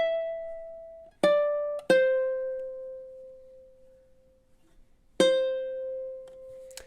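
Ukulele picking the closing measures of a melody from The Legend of Zelda: a few plucked notes, each left to ring and fade, played close and alone with a quiet gap before the last note.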